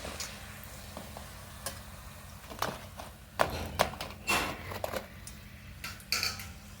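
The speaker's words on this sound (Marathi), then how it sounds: "एक एक करून सगळ्या पुऱ्या तळून घेऊया" Pumpkin puris fry in hot oil with soft sizzling, broken by irregular clinks and scrapes of a utensil against the pan, close and fairly quiet.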